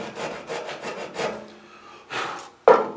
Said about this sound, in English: And you just file it like that, see?